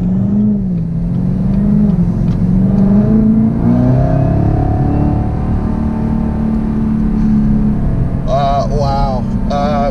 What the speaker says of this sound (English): I really hope the exhaust note comes through for you guys